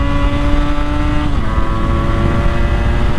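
Motorcycle engine under hard acceleration, revving steadily as a clutchless upshift drops the pitch partway through, loud and close with no talk.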